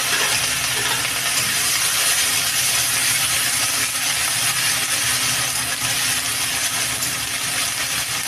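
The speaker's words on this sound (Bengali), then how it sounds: "দেখো জিরেটা আমার ভাজা হয়ে গেছে এবার দিয়ে দেবো পেঁয়াজ" Chopped onions dropped into hot oil with fried cumin seeds for a rohu fish, pointed gourd and potato curry, giving a steady, loud, dense sizzle and crackle that runs unbroken throughout with no talking.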